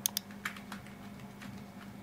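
Keys on a computer keyboard are tapped in a short, uneven run of soft clicks as a password is entered, close and fairly quiet over a low background hum.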